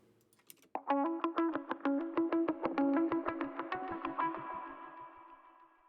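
A distorted guitar part plays a rapid run of evenly spaced chopped notes, then cuts and fades away into a long reverb tail, with loud, bright strikes that soften and blur toward the end.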